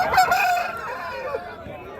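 Rooster crowing at a poultry market, a loud, drawn-out crow close by that rises and then trails off over about two seconds, with busy market noise around it.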